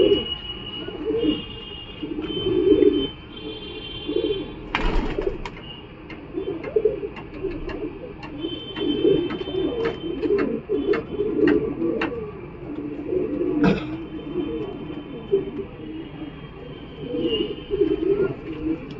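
Madras pigeons coo repeatedly in soft, throaty murmurs at a Galiff Street pigeon market, with occasional chirps and sharp clicks over a steady background hum.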